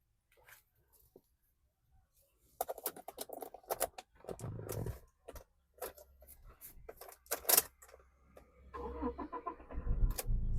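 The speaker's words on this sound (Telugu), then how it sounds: "సింగిల్ సెల్ఫ్లో బండి స్టార్ట్ అవుతుంది సార్." A 2017 Toyota Innova Crysta diesel engine cranks and starts on a single turn of the starter, then settles into a steady low idle hum. Sharp, irregular clatters and bursts sit over the idle.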